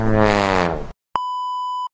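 Electronic doorbell at a home, a single steady high beep tone held for about a second, clear and close, following a long groaning drawn-out voice and ending with another quick tone at the very end.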